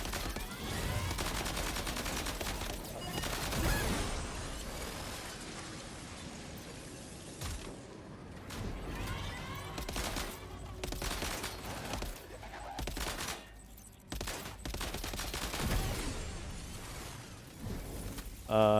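Suppressed rifle shots and scattered gunfire in the video game Death Stranding 2, repeated sharp reports mixed with mechanical clicks and impacts, moderately quiet, with a player speaking now and then.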